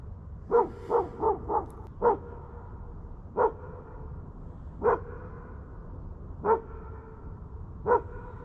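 A dog barks in a quick burst of four or five sharp, close barks, then keeps barking singly at spaced intervals of about a second and a half, loud and clear outdoors around a five-acre pond.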